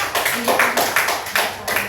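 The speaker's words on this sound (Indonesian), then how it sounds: "Tepuk tangan yang udah menjawab" Clapping from a small class of students for classmates who answered a question, a handful of loose, uneven claps repeating through two seconds at close range, with no one speaking.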